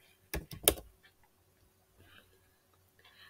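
A short burst of computer keyboard typing while a default value is entered into a PDF form field, a few quick clicks close together followed by quiet with faint later ticks.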